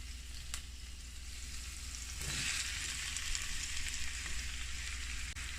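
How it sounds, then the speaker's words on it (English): Chopped vegetables for a Jamaican ackee and saltfish filling hit a hot pan, setting off a steady hissing sizzle that swells midway and keeps going, close and fairly quiet, with no talk. "And then I'm gonna add all my chopped vegetables."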